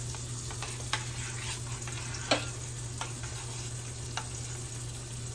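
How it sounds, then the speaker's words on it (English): Lemon butter sauce sizzles steadily in a pan, with a constant low hum beneath it and a few soft scraping ticks as it is stirred. "Let me give you guys a little stir."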